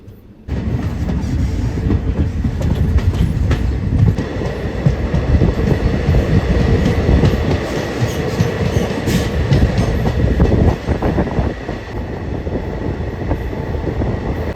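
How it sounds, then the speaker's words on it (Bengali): A passenger train pulls out of Qazigund railway station in snowy Kashmir, its loud continuous rumble and clattering wheels heard from on board, steady throughout with faint squeals mixed in. "আমাদের ট্রেন কাজিগুন্ড রেলওয়ে স্টেশন কিন্তু ছেড়ে দিল এই মুহূর্তে"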